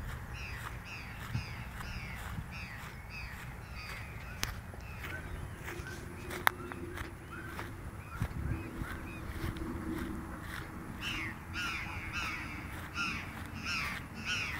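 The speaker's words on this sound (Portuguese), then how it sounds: "O Cancão tá gritando, ó." A jay, the gralha or cancão, calls repeatedly in loud harsh screeching caws at an even rhythm, close by, with no talk over it.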